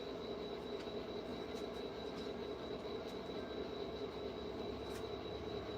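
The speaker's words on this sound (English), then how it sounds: "We'll have 2 trains on at once." Two model trains on a model railroad layout run together on the track, a steady low rumble of wheels with faint clicking and occasional light squeals, continuous and even throughout with no talk.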